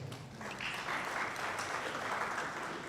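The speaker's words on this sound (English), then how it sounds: "you should give yourself a round of applause" A crowd claps steadily, sustained applause that swells slightly and holds at an even level throughout.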